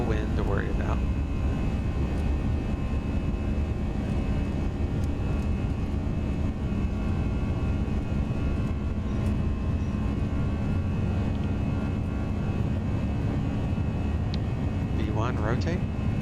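Steady, loud roar of Airbus A320 engines at takeoff power in the X-Plane 11 flight simulator, a continuous broadband drone with a constant hum throughout and brief faint tones at the start and end.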